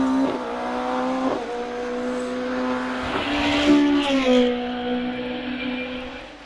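A race car at a hillclimb championship at Loton Park powers uphill, its engine note rising and dropping through gear changes with a sustained, loud drone that swells as it passes, then recedes.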